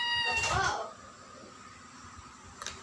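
A single short meow from a cat outside near the start, then quiet room noise with a faint click near the end.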